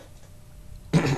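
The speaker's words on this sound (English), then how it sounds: "Sorry, I gotta keep clearing my throat." A single short, close throat clearing bursts out near the end after quiet room tone, with no talk.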